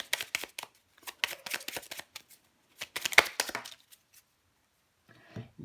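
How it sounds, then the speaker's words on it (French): Oracle cards being drawn and shuffled in a tarot-style reading, a run of quick papery riffles and flicks in bursts close up, with no talk over them. "je prends une dernière carte pour vous, les Gémeaux."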